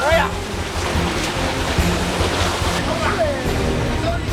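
Sea waves slosh and wash around a fishing boat as the captain rocks it side to side to stir up swell against a trawler, a steady close watery rush mixed with wind.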